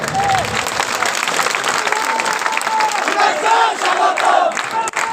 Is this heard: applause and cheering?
yes